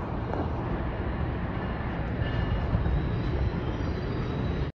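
Loud, steady roar of a train rushing past at Secaucus station in New Jersey, a continuous broadband rumble with faint high squeals, ending abruptly.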